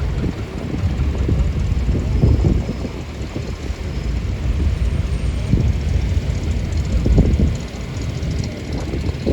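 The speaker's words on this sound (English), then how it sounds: "Little Albion just going past the commentary box, just have a listen to that" A vintage Albion lorry driving past the commentary box at the Sheffield steam rally, its engine a loud, uneven low rumble that swells and fades as it passes, with no talk over it.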